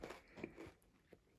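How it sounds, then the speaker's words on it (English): A lump of melted Pocky snack is bitten and chewed close up, giving several soft, moist crunches spread over about a second, quiet and unaccompanied by talk. "Hence the juicy crunch."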